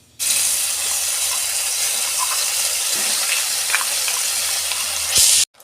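Green pea paste dropped into hot oil in a wok already holding nigella seeds and asafoetida, setting off a loud, steady, close-up sizzle that starts abruptly and holds for several seconds before cutting off.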